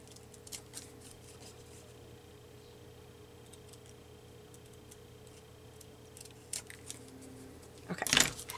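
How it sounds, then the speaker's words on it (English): Scissors snip through junk mail paper in sparse, faint cuts against a quiet room hum, with a sharper, louder rustle and snip near the end. "I can't get my scissors where I want them"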